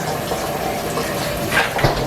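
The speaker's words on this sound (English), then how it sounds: "I'm gonna put them in some cool water" Cool water splashing and pouring over eggs in a kitchen, a steady close-up wash of running water with a couple of brighter splashes near the end.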